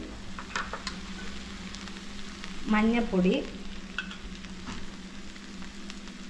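Chili, coriander, pepper and turmeric powders sizzle in hot oil with onions and tomatoes, a steady close frying hiss that is stirred briefly midway, with a short spoken word over the pan.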